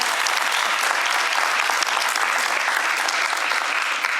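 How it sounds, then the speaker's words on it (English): A conference audience claps continuously in dense, even applause that stays loud and steady from start to finish, with no voices rising above it. "But I don't think we need the applause."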